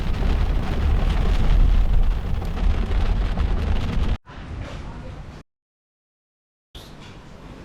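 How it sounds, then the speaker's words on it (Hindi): Heavy rain pours during a storm in Canada, a loud close roar of wash and rumble that cuts off abruptly into a short noisy stretch, then silence, then returns briefly. "अब बारिश जो है ना काफ़ी तेज़ होती जा रही है।"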